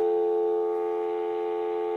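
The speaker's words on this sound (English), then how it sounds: "How long's it been since you heard a dial tone?" A steady cordless home phone dial tone hums continuously and evenly for the whole stretch, clear and close with no other sounds.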